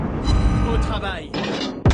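A heavy naval gun salvo booms from a warship in World of Warships Blitz, a loud deep blast with a rolling tail followed by another sharp report, while a voice speaks over it.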